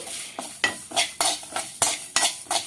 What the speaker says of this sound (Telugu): ఇప్పుడు ఇది మనం చక్కగా వేపేసేసుకుందాం